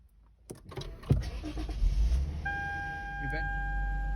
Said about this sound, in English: And then turn on the car.